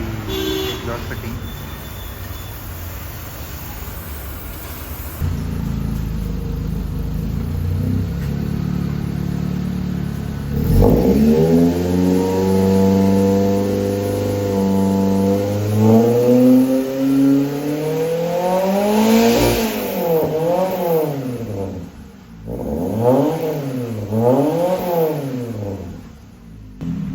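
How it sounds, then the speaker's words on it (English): A car fitted with a loud full exhaust system, just after the manifold went on, revs repeatedly up and down, close and loud. The pitch climbs and falls in sweeping waves over a steady low drone. "Guys, listen to the exhaust."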